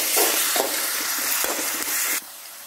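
Ginger and garlic thrown in with onions frying in a pan for country mushroom thokku give a loud, dense sizzle close by, with a few stirring scrapes, before the hiss suddenly drops to a softer level.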